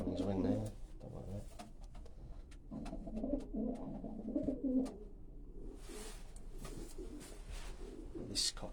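A racing pigeon coos in soft, repeated low phrases close by, with rustling and clicking handling noises and intermittent talk nearby.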